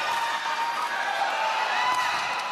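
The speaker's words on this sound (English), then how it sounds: "The crowd erupts for Lea Jansen." Crowd cheering at a Major League Pickleball match in Columbus, Ohio, erupting for player Lea Jansen: a steady, dense roar of many voices that holds at an even level throughout, with no single voice standing out.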